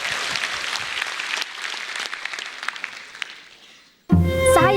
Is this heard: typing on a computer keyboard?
no